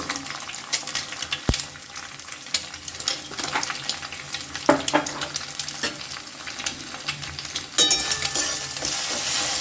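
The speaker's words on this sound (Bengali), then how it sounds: "এই ডিমটা একটু ঝুরো ঝুরো করে আমি ভেজে নেব" Eggs scramble with a pinch of salt in a pan, a constant moderate sizzle broken by frequent scraping and clattering as a utensil stirs them, with a louder hiss near the end.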